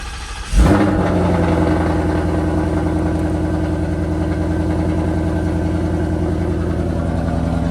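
A Ford Coyote V8 cranks briefly and fires up, then settles into a loud, steady, even idle that runs on alone without any talking.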